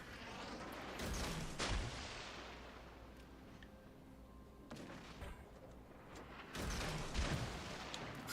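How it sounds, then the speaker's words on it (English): Warship guns firing in World of Warships: Legends, heavy booming salvos repeating every few seconds, each a broad rumbling blast that rolls off before the next, fairly faint overall. "I probably should shoot my guns."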